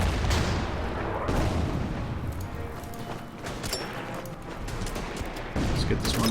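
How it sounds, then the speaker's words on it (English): Heavy gunfire and explosive artillery blasts as a tank fires on an artillery piece in the Order of Battle strategy game, set at Kasserine Pass in a sandstorm, with repeated booming shots and rattling bursts. "Let's take a shot at the artillery piece."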